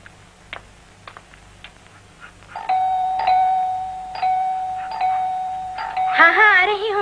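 A doorbell rings with a sustained electronic tone that holds for several seconds and then breaks into a warbling chime, heard indoors after a few light knocks or taps, with a low hum underneath.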